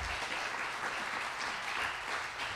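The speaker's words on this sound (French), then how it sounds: "on peut les applaudir" Brief, steady audience applause at an anniversary gathering in Paris fills the whole moment, moderately quiet and dense with many hands.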